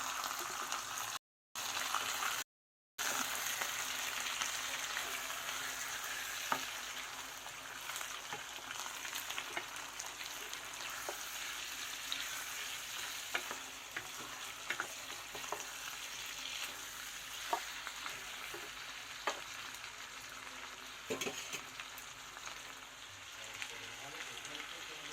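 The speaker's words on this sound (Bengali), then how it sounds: "এবার চিকেনটা ভালো করে মিক্স করে লাল লাল করে ভেজে নেব" Chicken pieces sizzle and fry steadily in a pan for a Bengali chicken kosha, with occasional scrapes and knocks of stirring throughout and faint speech in the background.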